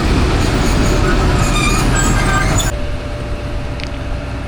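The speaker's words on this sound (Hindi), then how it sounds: "सामने से आ गई है जी 40 डाउन जाफ़र एक्सप्रेस और ऑन टाइम आई है" A Jaffar Express passenger train led by locomotive 6407 pulls into a station on time, with loud rolling wheels and rail noise close by that suddenly drops to a quieter rumble partway through.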